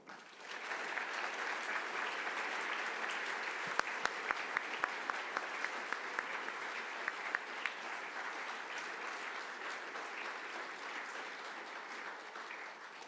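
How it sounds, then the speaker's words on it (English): An audience applauds after a talk at a scientific workshop plenary session, steady sustained clapping from a full room lasting over ten seconds, with a few sharper individual claps standing out. "Another clap, perhaps, for Jeff."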